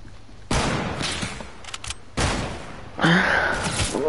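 Three bursts of rapid video game gunfire, each a dense crackling volley, with a brief gap between them and faint sounds in between.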